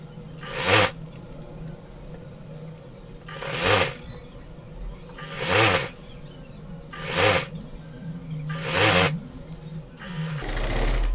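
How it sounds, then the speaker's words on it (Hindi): A sewing machine stitching gharara fabric runs in five short bursts of rapid whirring, each about a second long, separated by quiet pauses. The motor is close and clear, and no one speaks. "इस तरफ से सिलाई करेंगे।"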